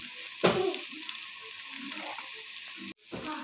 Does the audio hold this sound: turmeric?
yes